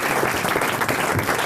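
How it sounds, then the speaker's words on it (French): An audience claps steadily, a dense, lively patter of applause filling the short moment. "Vous pouvez applaudir Marc-Antoine Lebré"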